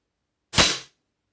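A single sharp crack from a Diana LP8 Magnum air pistol firing, close and loud, then silence.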